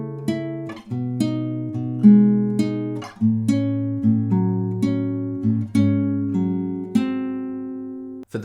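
Fingerpicked acoustic guitar playing a song, clear plucked notes ringing and overlapping in a steady, unhurried pattern with bass notes beneath, close and alone with no talking.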